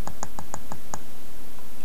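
Six small plastic clicks from the button of a Delirium e-cigarette, pressed in a quick, slightly uneven series close to the mic, with faint hiss behind.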